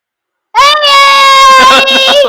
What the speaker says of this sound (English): No. Don't scream.